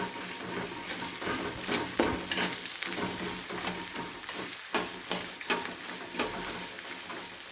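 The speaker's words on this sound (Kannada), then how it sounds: "ಈರುಳ್ಳಿ ಹಾಕೊತಾ ಇದ್ದೀನಿ. ಇದನ್ನು ಚೆನ್ನಾಗಿ ಕೆಂಪಾಗೋವರೆಗೂ ಫ್ರೈ ಮಾಡ್ಕೊತಾ ಇದ್ದೀನಿ." Onions fry in a pan for uppittu while being stirred: a steady, dense sizzle with repeated scraping strokes of the spoon across the pan, close and fairly loud, with no voices.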